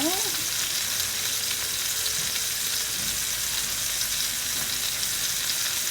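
Peaches and a pork chop fry in a pan with a steady, close sizzle that holds evenly throughout, with no one talking over it.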